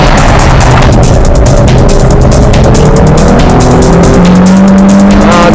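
Mitsubishi Lancer Evolution IX on a track with strong rear wheelspin: a loud, continuous engine roar with rising tones as the tires scrub and squeal under traction, no talking.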